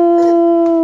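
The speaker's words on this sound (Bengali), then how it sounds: "ওই দেখ কুকুর ডাকছে, শোন।" A dog howls close by, one loud sustained tonal howl with a slight rise and fall, heard clearly on its own without any talk.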